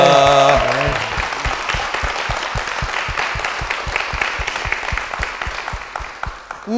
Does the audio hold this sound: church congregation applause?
yes